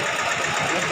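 A boat's motor runs steadily through flood water in a residential area, a continuous mid-pitched engine drone with a rough, knocking texture, close and fairly loud, no voices over it.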